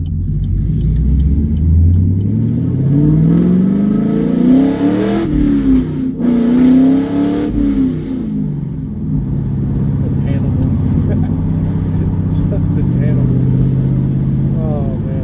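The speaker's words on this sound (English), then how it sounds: "I'll let you listen to the car and I'll shut up" A straight-piped Chevrolet Camaro engine revs loudly with a deep, raspy rumble, climbing and falling through several rev sweeps before settling into a rough, lumpy idle.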